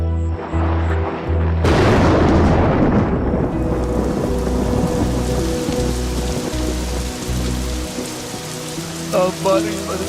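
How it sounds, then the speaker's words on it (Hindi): Steady heavy rain pours down after a sudden loud crack of thunder, with a low droning tone running underneath throughout. "अब बारिश बरसा कर मेरे आंसू क्यों छुपा रहा है?"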